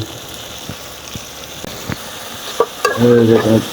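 Onions and garlic are stirred in a frying pan, with a few soft utensil scrapes giving way to a louder burst of sizzling and hot-oil crackle near the end. No talking.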